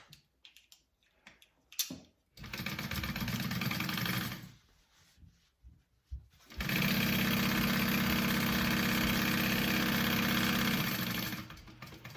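A sewing machine stitching a fabric bag, two bursts of fast steady motor-driven stitching, the second longer and louder, separated by brief pauses with small handling clicks, close and alone.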